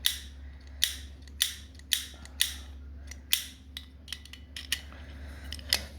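Ferrari F40 bonnet latch mechanism worked by hand, a close series of sharp metallic clicks and ratcheting snaps at an uneven rhythm over a low steady hum, no talking.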